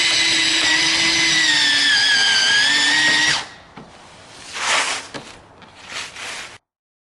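A power drill whines steadily at high speed while driving a screw into a Subaru BRZ front lip for about three seconds, then stops, followed by a few brief clanks and rustles.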